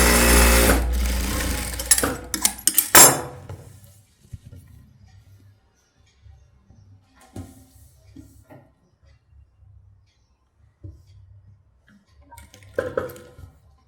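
Sewing machine stitching a blouse, a loud burst of whirring stitches for about three seconds, then faint handling noises and short quieter bursts of sewing near the end.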